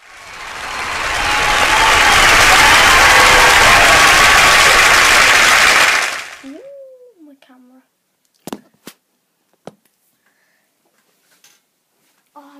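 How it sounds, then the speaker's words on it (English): A loud burst of crowd applause swells and holds for about six seconds, then cuts off abruptly, leaving near silence with a few scattered faint clicks and a brief voice. "I think I need an applause."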